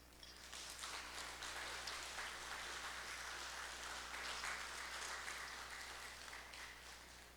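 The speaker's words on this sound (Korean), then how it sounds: "우리 박수로 맞이합시다" A church congregation at a Sunday worship service applauds to welcome a missionary, producing a steady, moderately distant wash of clapping that holds evenly for several seconds with no talking over it.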